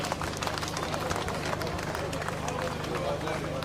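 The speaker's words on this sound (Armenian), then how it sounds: "ծափահարենք մեր ընկերոջը" Crowd applause for a comrade at an Armenian gathering: steady, dense clapping that fills the whole span, with a voice speaking loudly over it.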